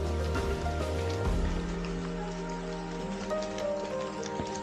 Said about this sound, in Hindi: ये गांव में जो है बारिश में चलने का आनंद है